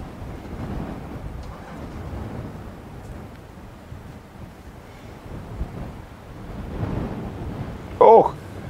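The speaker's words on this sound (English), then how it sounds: "I don't know if you can hear that wind on the mic. It's really, it's getting stronger and stronger." Strong gusting wind buffets the microphone in the African bush at night, a low rumbling roar that swells and fades, with a brief sharp bump near the end.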